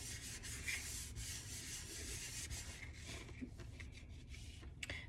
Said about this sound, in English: I'll just wipe up the excess.